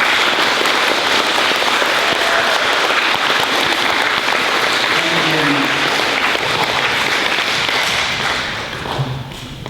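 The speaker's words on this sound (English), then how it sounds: "So if you would please just give them a round of applause." A crowd applauds loudly and steadily for several seconds, the clapping thinning out toward the end.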